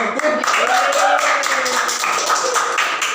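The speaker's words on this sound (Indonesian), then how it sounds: "Tepuk tangan." An audience claps at a talk show taping, brisk close clapping that runs through the whole moment with a murmur of voices underneath.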